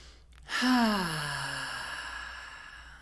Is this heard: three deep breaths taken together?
yes